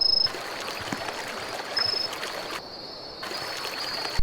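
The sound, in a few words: running water in Roblox video game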